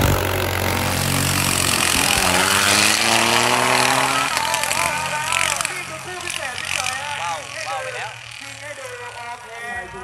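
A modified rice tractor engine tuned to about 15 horsepower, running in an off-road drag race in Thailand, a loud steady engine drone that rises in pitch and then fades, with someone talking over it.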